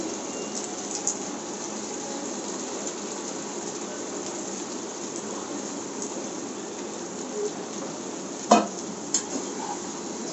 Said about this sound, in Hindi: अब हम इसमें अपने जो मंचूरियन बनाए थे बॉल्स अब हम इसमें डाल देंगे।